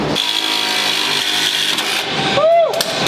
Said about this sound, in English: I'm just gonna weld right now, right in here